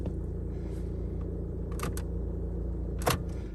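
A 2007 Volkswagen Passat B6 engine idling after a key start, a steady low rumble with a few brief sharp clicks over it, no talking.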